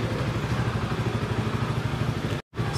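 A CF Moto 300SR motorcycle sits idling, its engine giving a steady low, even mechanical thrum close by, with no talk, cut off by a brief silent gap near the end.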